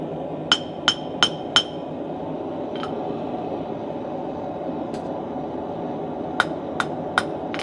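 Hammering on a metal candle holder comes as a quick group of four bright, clinking blows, a few isolated taps, then a final trio of strikes, with a quiet steady hum between them and no speech.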